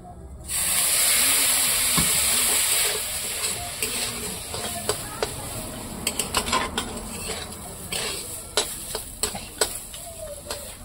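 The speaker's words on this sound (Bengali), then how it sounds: "এরকম করে নাড়াতে হবে।" Jal cuji of turmeric-and-salt-coated potatoes and carrots is stirred in a pot: a loud steady sizzle and hiss at first, then a softer simmer broken by repeated sharp scrapes and clacks of the spoon against the pot.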